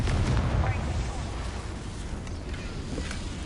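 Blasts from the Confringo fire spell in Hogwarts Legacy, a dense rumbling explosion followed by a continuous roaring, crackling wash of fire and debris that stays loud throughout.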